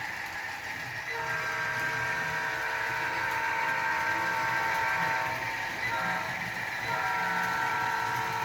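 A vintage TYCO HO scale model train runs continuously while a multi-tone whistle resembling a C39-8 locomotive sounds in two long blasts over the rumble, with no talking.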